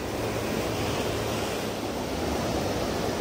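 Ocean surf breaks on the Cornwall shore in a dense, continuous roar, loud and close, with wind rushing across the microphone and no one speaking.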